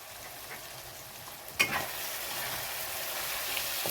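Liver frying with cumin, coriander powder and garam masala in a pan, a low steady sizzle broken by one sharp clatter of stirring midway.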